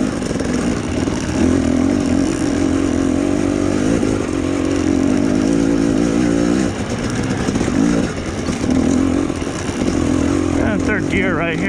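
A two-stroke dirt bike engine revs and strains steadily while the rider picks through a rough trail, loud and close throughout, rising and dipping with the throttle. A rider's voice comes in now and then.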